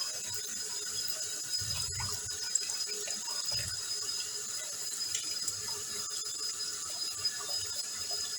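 Lukewarm tap water runs steadily into a sink while fruit is washed under it, a continuous close hiss with a few soft bumps and splashes of handling.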